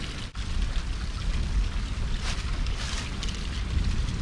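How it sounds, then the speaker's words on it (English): A double waterfall at Matthiessen State Park in Oglesby, Illinois, heard as a steady broadband rush of falling water, close and continuous, with some wind across the microphone. "Got a double waterfall."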